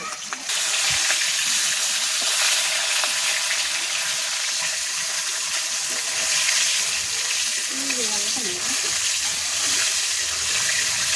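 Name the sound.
hilsa fish frying in oil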